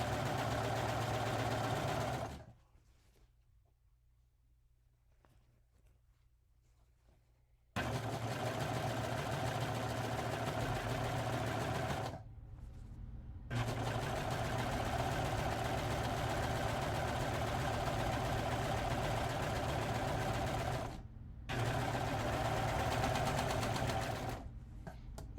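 A serger runs along the raw edges of fabric to stop fraying, its fast, even motor whir coming in loud bursts of several seconds broken by short pauses and one long quiet gap.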